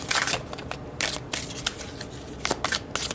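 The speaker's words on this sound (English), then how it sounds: "I usually shuffle this way, but then you guys see that" A deck of tarot cards is shuffled by hand in several short bursts of crisp, close riffling and flicking, with brief pauses between them and no talk.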